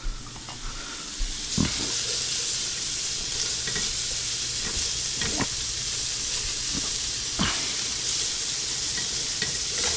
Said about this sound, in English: And we will start stirring them.